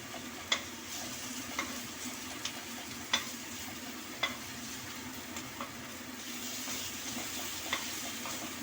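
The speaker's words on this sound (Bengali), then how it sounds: "মশলাটাকে ভালোভাবে কষিয়ে নিতে হবে যাতে মশলার যাতে কাঁচা গন্ধ আছে সেটা যাতে না থাকে" Spice masala frying in a pan while being stirred, a steady low sizzle broken by regular light scraping taps of the spoon roughly once a second, fairly faint and close.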